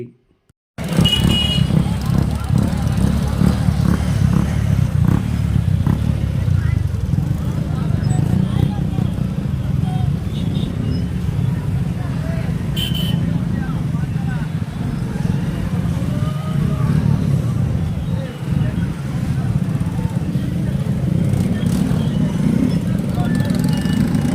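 Motorcycles in a May Day bike rally run by two-wheeler mechanics rumble steadily and loudly for the whole stretch, engines droning with occasional horn toots and crowd noise mixed in.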